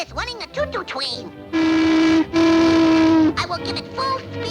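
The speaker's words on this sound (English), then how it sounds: "I is running a choo-choo train." A cartoon choo-choo train whistle gives two long, loud, steady blasts, the second following a brief break, between snatches of a squeaky cartoon voice speaking before and after.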